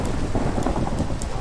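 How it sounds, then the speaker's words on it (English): Steady heavy rain pours in a Minecraft video game, a dense continuous wash with faint crackles of distant thunder running under it, loud and unbroken with no talk. "Oh, I love the sound of rain."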